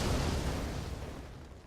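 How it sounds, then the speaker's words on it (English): A cinematic explosion in Warhammer 40K: Chaos Gate - Daemonhunters rolls out as a dense, low rumbling boom that is already loud at the start and slowly fades over under two seconds. "Cinematic explosion of nothing."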